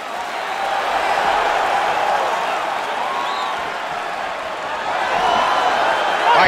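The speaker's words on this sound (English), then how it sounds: "crowd getting excited as this fight gets underway" A video game arena crowd at a UFC 4 fight cheers and murmurs in a steady, dense roar that swells slightly toward the end, with no clear individual voices standing out.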